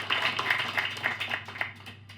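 Applause from an audience at a talk on neoliberalism with Horacio González: a steady patter of hand claps over a low room hum that trails off toward the end, with no voices.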